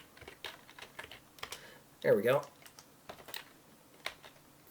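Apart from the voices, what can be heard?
typing on a computer keyboard one-handed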